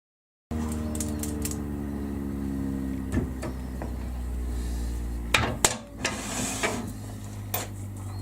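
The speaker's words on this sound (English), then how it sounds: "I'm going to turn some bushings out of this bit of Korean as well" A wood lathe spins up with a steady motor hum while pen bushings are turned from a small offcut, with occasional sharper knocks and scrapes as the tool meets the spinning workpiece.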